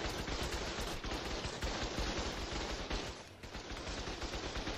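Turret gunfire during an ARK raid, a continuous loud stream of rapid shots with only a short dip near the end, muffled through a poor microphone with no voices.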